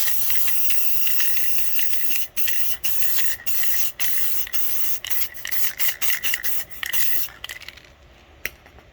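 An aerosol can sprays a black coat of paint onto glass outdoors, a close hissing spray broken by short pauses and bursts before it trails off near the end.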